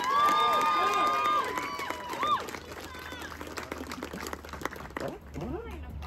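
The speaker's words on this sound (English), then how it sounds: "Would you please cheer for Lisa?" Crowd cheering and applause from a church congregation at an Easter Sunday service, a broad burst of noise with voices that fades over several seconds, with some talk mixed in.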